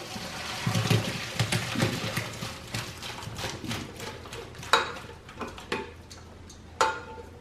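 Boiled potatoes drained in the kitchen, with water splashing and trickling and several sharp knocks of pot or colander, close and moderately loud, with no talk.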